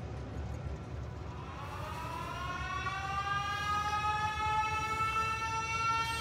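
A video game alarm siren in Factorio winds up and rises steadily in pitch, its wailing tone growing louder and holding over a low rumbling hum.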